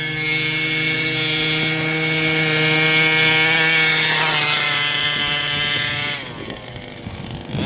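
A Losi Five B RC car's 32cc engine during break-in idles and runs at barely-on throttle, a loud steady buzzing drone with strong harmonics that dips and shifts pitch near the end.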